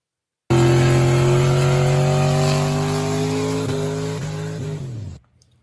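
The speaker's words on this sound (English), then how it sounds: "here's the challenge of burnouts for distance" A car revs hard and holds a loud, sustained engine drone during a burnout, rising slightly in pitch with a few quick stutters near the end before cutting off abruptly.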